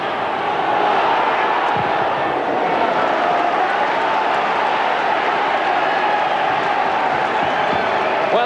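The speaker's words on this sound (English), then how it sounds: "Well, the crowd beginning to warm to this City pressure, Mark." A football crowd at a 1993 Bristol City versus Grimsby match keeps up a loud, steady roar of cheering and murmur throughout, dense and continuous with no breaks.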